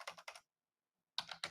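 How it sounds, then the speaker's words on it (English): Quick bursts of typing on a computer keyboard, two short clusters of key clicks separated by a silent pause, close and clear with no talk. "Let me type this so I can see if I can pull it in."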